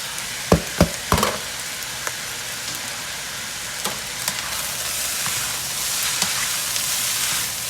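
Fried rice with soy sauce, fish sauce and black pepper stir-fried in a hot pan, a steady loud sizzle broken by a few sharp scraping knocks of the utensil early on.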